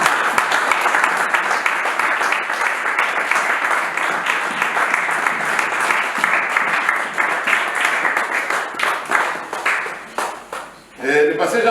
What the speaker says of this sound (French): on va acclamer pour la gloire de Dieu